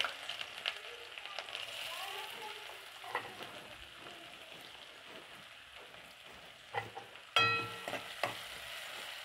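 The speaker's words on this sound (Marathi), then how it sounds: "कांदा याच्यामध्ये छान फ्राय करून घ्यायचा आहे" Chopped onion frying in a few spoons of hot oil in a kadhai for a cabbage sabji, giving a soft, steady crackle with a few sharper clinks and a brief clatter near the end.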